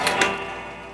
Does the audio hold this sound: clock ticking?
yes